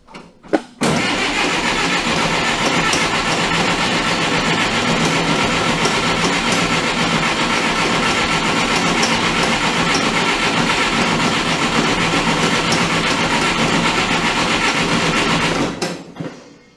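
Diesel engine with an American Bosch PSB injection pump just resealed, cranking and catching then running loud and steady at close range for about fifteen seconds before cutting off abruptly.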